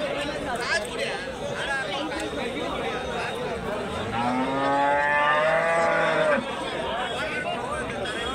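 A cow with her calf at a cattle market in Karimangalam, Dharmapuri district, lows with a long drawn moo over busy crowd chatter and nearby talking.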